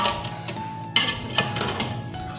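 Cooked chicken biryani rice being mixed in a pot, with scraping spoon strokes and metallic clinks and knocks against the pot at an uneven pace, close and fairly loud, without talking.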